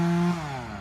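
A chainsaw running while an orchard is cleared, a steady loud engine drone that holds briefly and then drops in pitch and level as it eases off, with no talking.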